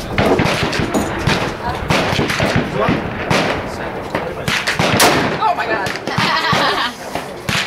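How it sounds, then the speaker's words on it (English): A .357 Magnum revolver fires outdoors on a shooting trip at Burro Canyon, one sharp loud crack standing out from a dense, noisy mix of other bangs and people talking throughout. "It's only one bullet, it's one shot."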